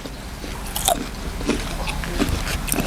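Close, crisp bites and crunching chews on a pickled olive seasoned with chili salt, several distinct crunches spread over a few seconds against a steady low background, no talking.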